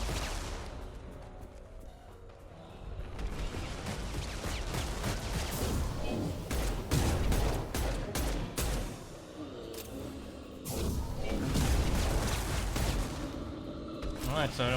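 Repeated gunshots and impacts during Mass Effect 2 combat, bursts of fire and crashes throughout, heard under steady talking by a player.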